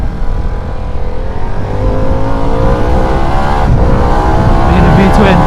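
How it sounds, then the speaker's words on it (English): A Harley-Davidson Pan America ST V-twin motorcycle engine revs up loud and close, its rising harmonic drone climbing steadily, with a voice speaking faintly over the engine. "Being a V-twin does run out revs quickly."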